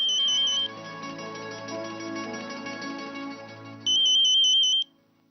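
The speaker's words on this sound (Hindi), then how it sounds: "आपका फोन बज रहा है।" A phone rings indoors with a loud, electronic beeping tone in two bursts, one at the start and one near the end, with soft background music playing in between.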